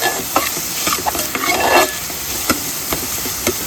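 Onion, garlic, curry leaves and tomato frying in a pan while being stirred, a close, steady sizzle broken by repeated scraping strokes of a spoon against the pan.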